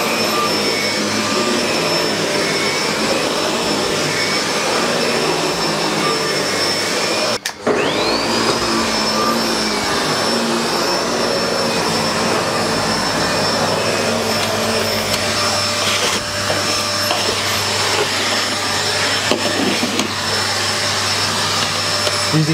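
A SEBO Felix upright vacuum cleaner runs loud and close with a constant high whine and roar, briefly cutting out and restarting early on, then droning steadily for the rest of the stretch.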